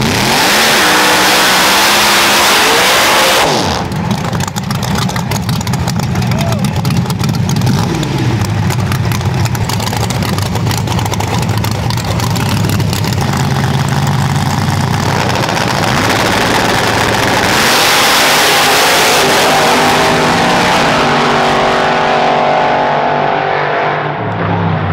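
Race cars accelerating hard at a DFW small tire cash days street race, loud roaring engines building and fading as cars launch and pass, with heavy crowd and engine noise throughout.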